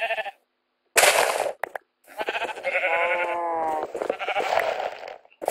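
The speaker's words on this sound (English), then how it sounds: "gonna shear that sheep" Sheep in the Minecraft video game bleat in several loud, close, wavering calls, one after another with short silent gaps between them.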